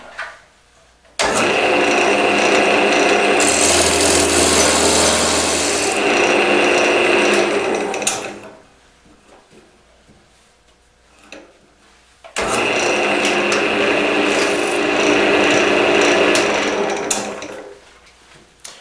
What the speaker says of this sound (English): These carbides, they tend to give you a pretty good cut right up towards the end when they start to really get dull.